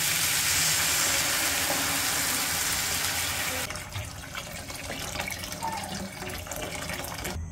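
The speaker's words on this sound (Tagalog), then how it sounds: "lalagyan na po natin ng tubig" Water pours into a cooking pot for pork lomi, a loud, rushing splash for the first few seconds that cuts off, leaving a quieter bubbling and sizzling from the pot.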